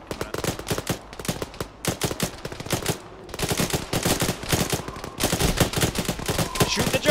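Constant dense gunfire from an Arma firefight in a ShackTac session: rapid machine-gun bursts and single shots overlap one another without a break, loud and close throughout.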